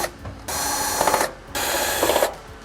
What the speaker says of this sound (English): Now that we've removed all the screws